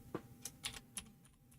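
Keys struck on a heavy metal computer keyboard, four or five sharp, separate clicks spaced unevenly and close by, with no voices.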